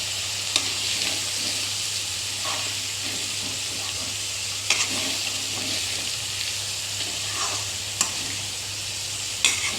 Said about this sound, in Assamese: এয়া মাংসৰ পৰা তেল ওলোৱা আৰম্ভ কৰিছে আৰু ভালদৰে ভাজি লাগিছে মাংসখিনি